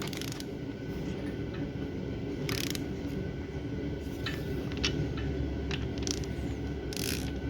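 A wrench ratchets as bolts are snugged down on a Nissan KA24E engine build, giving several short bursts of clicking pawl sounds over a steady low background hum.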